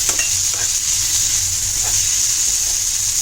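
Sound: jitada fish head kheema masala being sautéed and stirred

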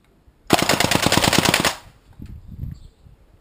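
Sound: WE L85A2 gas blowback airsoft rifle firing on automatic

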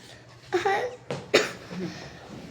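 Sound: cough

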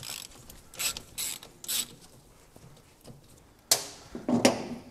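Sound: undoing driveshaft nuts on a Triumph TR6 with a ratchet

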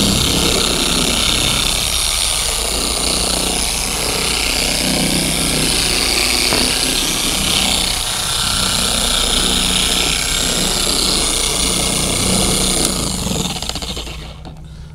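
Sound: car polisher running at low speed spreading polish

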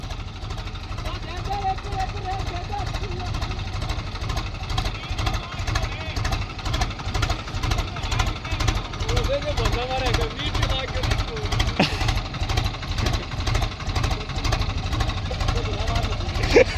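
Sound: Swaraj tractor engine climbing steep slope

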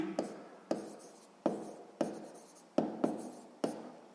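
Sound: writing on paper during a maths exercise

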